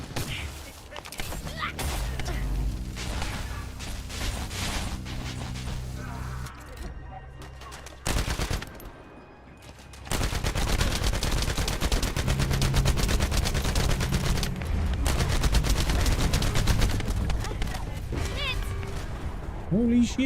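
Rapid automatic gunfire in a mecha looter shooter game, sustained loud bursts with a brief lull midway, under excited talk.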